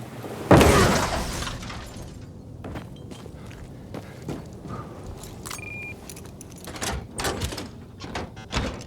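Metallic rattling and clunks as a locked door is tried in the Dying Light video game, starting with a loud jolt and followed by scattered handle rattles, knocks and faint footsteps.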